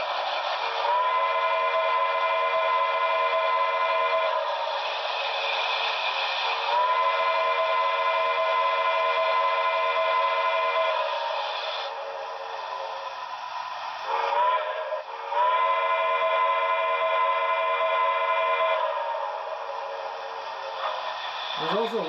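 A sustained steam whistle plays from the sound system of a Broadway Limited C&O L-1 Hudson #490 brass hybrid model steam locomotive, Paragon 3, in long drawn-out blasts with brief breaks over a constant hiss.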